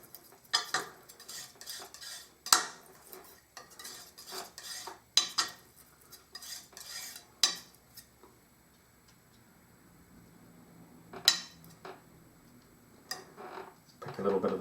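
Oil paint is mixed on a palette with a knife or brush, heard as scattered scraping taps and clicks in irregular bursts, fairly close, with quiet stretches in between.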